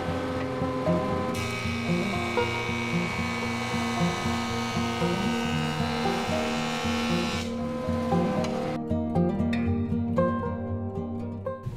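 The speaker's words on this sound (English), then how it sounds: "we're going to take the glued up block and we're going to run it through the joiner to get a nice square edge" A jointer planes the edge of a glued-up wood block, giving a loud, steady motor whine with a dense cutting roar that cuts off near the end, leaving the machine spinning down with faint clatter.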